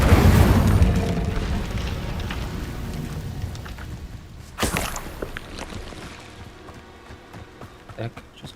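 An Incendio fire spell is cast in Hogwarts Legacy: a loud, roaring fiery burst opens and gradually fades, followed by a second sharper flare midway and a few smaller crackles.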